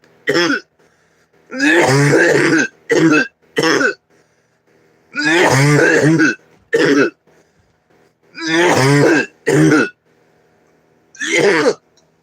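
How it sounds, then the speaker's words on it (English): A person coughing hard in several loud, harsh bursts separated by short pauses, each burst rough and throaty, close to the listener with near silence between. "That one's gonna make me cough pretty hard."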